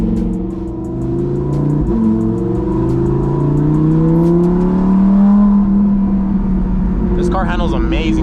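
An Audi R8 at night pulls hard on the road, its engine note rising and falling through revs with a loud, close drone, and a voice briefly talks near the end.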